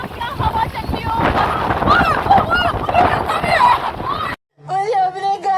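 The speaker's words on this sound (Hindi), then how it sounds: "ओ क्या हवा चल रही हो" Strong storm wind roars steadily around the microphone in Kathgodam, loud broadband gusting that people talk over, then drops away suddenly near the end.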